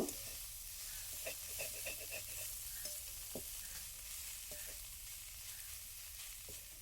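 A spoon turns grated cauliflower and potato with spices in a hot pan for a pitha filling, with soft scraping strokes over a faint, continuous sizzle at low volume.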